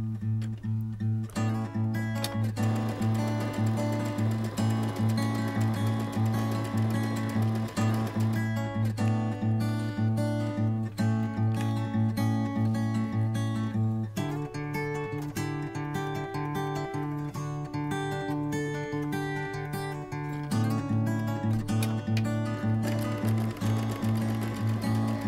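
A sewing machine stitches a quilt block's handle continuously, its motor whirring steadily with a rapid mechanical needle rhythm and slight pitch shifts.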